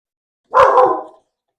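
A single sharp bark from a house dog reacting to someone passing by the door, close and loud, with a brief double-pulsed onset trailing off in under a second, no talking.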